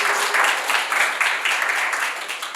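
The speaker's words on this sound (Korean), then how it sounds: "벤사님께 박수 부탁드리겠습니다" A lecture audience claps after a talk on Deep Spectra, producing a short burst of moderately loud, continuous applause that stays even and unbroken without speech throughout.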